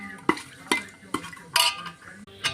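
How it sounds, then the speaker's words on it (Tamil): Bay leaves sautéed in hot oil in a pressure cooker: a spoon stirs with five or six sharp clanks and scrapes against the metal pot over a faint sizzle, close up, no talking. "கொஞ்சம் வதக்கி விடலாங்க."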